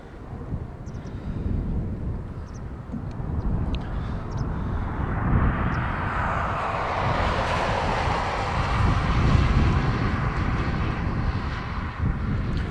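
An Etihad airliner passes overhead at Dublin Airport, its engine roar building from a low rumble into a loud, broad sweep that holds through the pass, with wind buffeting the microphone.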